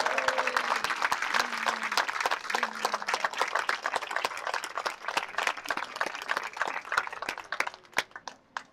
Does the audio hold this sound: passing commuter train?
no